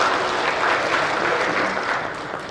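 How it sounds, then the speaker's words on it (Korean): An audience at a special lecture event claps steadily for a few seconds, a dense, even wash of applause with no voices over it. "자, 큰 박수 부탁드리겠습니다."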